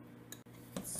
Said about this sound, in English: Just give our tomato soup a stir.